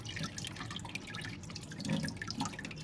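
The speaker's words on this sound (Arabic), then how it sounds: "انا بغسله كده الغسله الكويسه بتاعته دي وملح على طول" Frozen mullet fish being washed by hand under running water, with close splashing and trickling, no talk.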